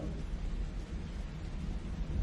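Rain falls with a low, continuous rumble of thunder underneath, a dense steady wash of sound with no clear breaks.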